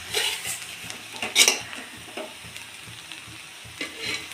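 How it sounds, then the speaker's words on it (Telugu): Cooked rice is stirred into a sizzling tomato and egg mixture for fried rice, with steady frying hiss, scraping spatula strokes and a sharp clatter against the pan near the middle, close and moderately loud. "ఇందులోకి ఇంకొంచెం అన్నం పడుతుంది ఫ్రెండ్స్ ఇప్పుడు అన్నం కూడా వేసుకుందాం"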